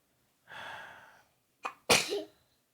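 A single close, loud sneeze, with a drawn-in breath before the sharp burst and a short trailing exhale.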